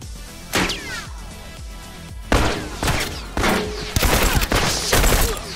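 Repeated loud gunshots from the video game Factions fire in uneven bursts, close and punchy, with reverberant tails and no talk.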